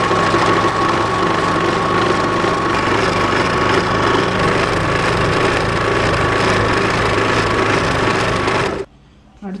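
A sewing machine runs a line of stitches along the folded edge of frill cloth, a steady, dense mechanical whirr held close and constant for almost nine seconds before it stops suddenly.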